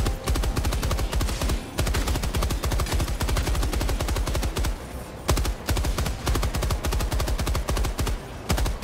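Light machine gun in Helldivers 2 firing long sustained bursts of rapid, evenly spaced shots, loud and close, with only a few brief pauses between volleys.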